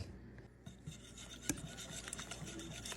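A bread whisk mixes sourdough starter and water in a bowl, giving soft, irregular scraping and rubbing strokes with one sharper knock, quiet and close with no talking.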